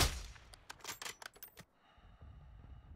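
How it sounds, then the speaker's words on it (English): A rapid burst of sharp gunfire in the video game Warzone 2.0 cracks from a short distance for over a second, then gives way to a low, steady background hum. "Gunshots that way."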